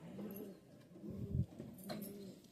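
Pigeons coo softly in low, rolling murmurs, several overlapping calls close by in a quiet space.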